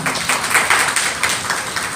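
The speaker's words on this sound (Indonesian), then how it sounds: "Tepuk tangan dong buat Tuhan." A church congregation at a worship service in a hotel hall claps and applauds steadily together for a couple of seconds, a dense wash of hand claps with no talking.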